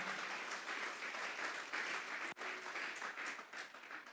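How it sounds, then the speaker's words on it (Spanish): A church congregation breaks into applause, a faint, distant wash of steady clapping with a brief dropout midway, no voices over it. "Denles ofrenda de palmas a Dios en esta hora."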